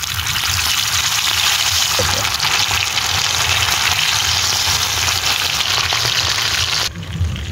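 Fish sizzles in hot oil over a campfire in a deep forest camp, a dense steady crackle and hiss close by that cuts off sharply near the end, with no talk.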